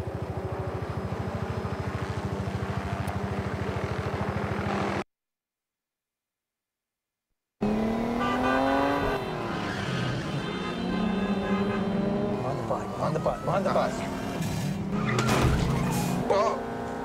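A car revs and accelerates with rising engine pitch that steps through gear changes, squealing tires and skidding mixed in, after a loud idling stretch and a short silence, with voices heard over the engine.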